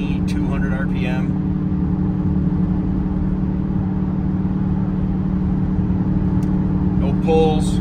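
A 2007 Dodge Magnum SRT8 cruising on the highway at 75 mph and about 2,200 RPM gives a steady, even engine hum and road drone from inside the cabin, with brief voices near the start and end.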